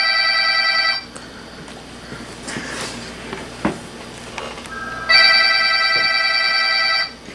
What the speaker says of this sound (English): get that, Chris? Or that's not my phone